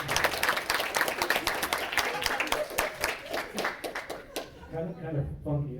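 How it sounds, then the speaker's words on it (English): A college audience at a stage hypnosis comedy show claps loudly, with dense rapid applause that thins out toward the end as a voice begins talking over it. "Give her a big round of applause."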